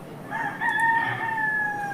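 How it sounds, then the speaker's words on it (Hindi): A fighting rooster lets out a single long crow with a drawn-out call, loud and close against faint background noise. "फाइटर वाला मुर्गा जो लड़ाकू मुर्गा होता है"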